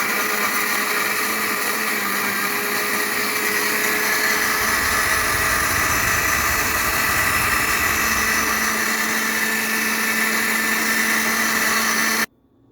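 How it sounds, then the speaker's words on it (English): A small kitchen blender whirs steadily while blending a smoothie, a loud continuous motor whine with a shifting churning tone for about twelve seconds before cutting off abruptly. "I like to put the ice cubes in there after I blend it because my poor little blender"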